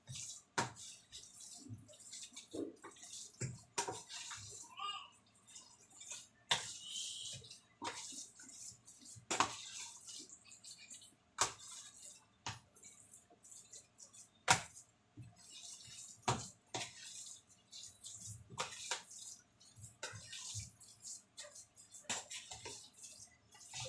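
Ukoy fish fritter batter stirred in a bowl by hand, giving soft wet sloshing and scraping strokes with small drips, repeating irregularly and close up for the whole stretch, no talking.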